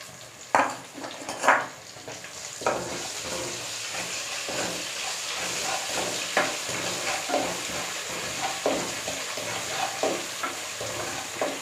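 Onions sauté with salt in a pan for a country chicken fry. A steady low sizzle runs under regular spatula scrapes and clinks against the pan, with a few louder knocks early on.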